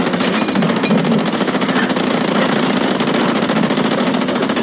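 Sustained automatic gunfire in the World War II shooter Hell Let Loose, a loud, rapid, unbroken stream of shots close by with no talk.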